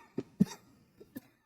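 Four short coughs from one person, two sharp and close together followed by two softer ones after a pause, fairly near and with no talking over them.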